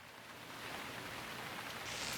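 Rain falls steadily in a sci-fi noir game setting, a soft hiss of drops on surfaces that swells slightly toward the end, with no voices.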